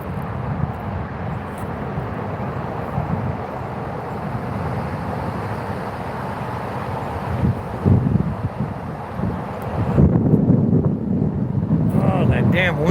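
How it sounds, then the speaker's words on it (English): Outdoor wind buffeting a microphone, a steady low rumble with gusts that swell louder near the end and no one speaking. "Oh, that damn wind, man."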